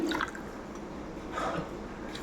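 Water trickles and drips as three cups are poured into cornflour for papaya halwa, a soft liquid sound with small splashes, fairly quiet and steady throughout.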